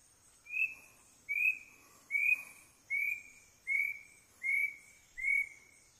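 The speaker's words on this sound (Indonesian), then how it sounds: "suara burung-burung gunung" Mountain birds sing in a regular series of seven clear whistled calls, evenly spaced and moderately near, over an otherwise quiet background.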